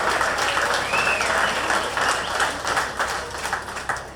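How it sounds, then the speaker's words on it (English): Audience applause at an awards ceremony for a power boat grand prix, a steady wash of clapping from a crowd that holds throughout without a break. "Give Pat a round of applause."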